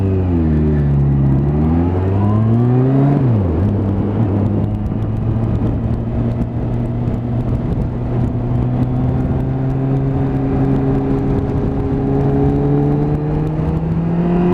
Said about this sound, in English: Got more confidence in this bike every time I ride it